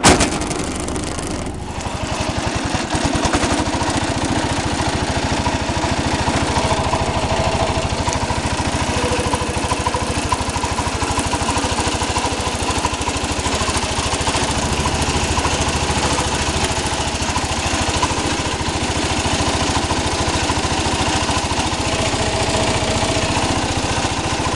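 A 1968 Cub Cadet garden tractor engine starts and then runs steadily, a loud continuous mid-pitched mechanical drone with a rough buzzing texture that holds unchanged for over twenty seconds.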